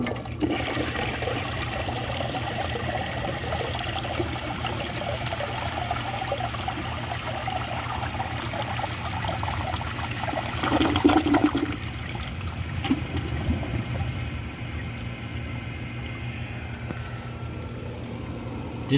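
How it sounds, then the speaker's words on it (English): A 1973 VHP toilet flushes with a long, steady rush of water that surges midway and then settles into refilling, close to the microphone. "Now let's give it a flush."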